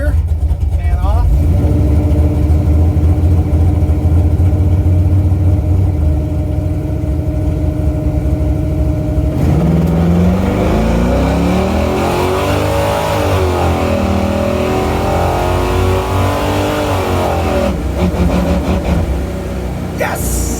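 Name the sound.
race car accelerating in first gear at track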